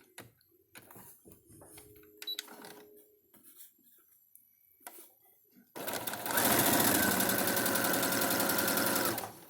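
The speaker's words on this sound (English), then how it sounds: "We're going to sew on that line." After a stretch of quiet handling noises, a sewing machine starts up and runs steadily, loud and close, stitching fabric squares for an autumn leaves table runner along a drawn line.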